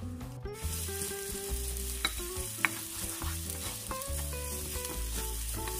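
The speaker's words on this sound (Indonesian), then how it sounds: "Kita tumis dulu bawang putihnya sampai harum," Garlic and shallots sizzle and crackle steadily in hot oil with occasional scraping stirs and light clinks, close and fairly quiet.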